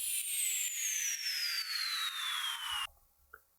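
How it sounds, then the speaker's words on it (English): A sine downlifter sweep for a progressive house drop, 8 bars long, made in FL Studio: a loud, steady falling tone over a noisy wash that glides down for nearly three seconds, then cuts off, leaving a faint brief blip. "And again, we have an 8-bar sine downlifter."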